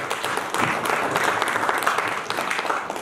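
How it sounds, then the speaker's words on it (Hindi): An audience at a regional business conclave in Kasauli breaks into loud applause, with dense, continuous clapping throughout. "एक बार सुभाष जी के लिए जोरदार तालियां हैं"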